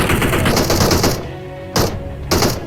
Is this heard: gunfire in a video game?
yes